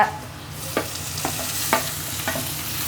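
Food frying in a pan for a home-cooked curry is stirred with a utensil, giving a steady sizzle broken by four or five distinct scraping strokes at a relaxed, irregular pace.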